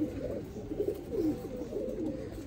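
Pigeons cooing in soft, low, rolling phrases that repeat steadily at close range, with a faint background hiss and no speech.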